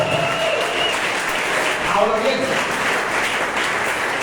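Audience applause fills a church during a sermon on the judgment of believers and ministers, a steady wash of clapping throughout while a voice speaks over it.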